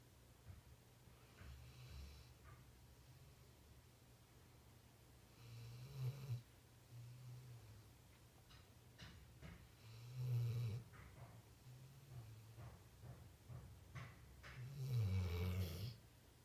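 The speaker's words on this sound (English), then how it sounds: "stop snoring, please." Snoring from a sleeping dog, low rumbling breaths recurring at irregular intervals and growing louder toward the end, close by in a quiet room.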